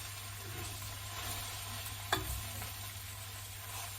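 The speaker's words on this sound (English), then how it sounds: "Just give fish a bit more stir, wilt in the spinach" Salmon with spinach wilting in a pan, a steady close sizzle of frying with soft stirring scrapes and one brief sharp clink of a utensil against the pan, no talking.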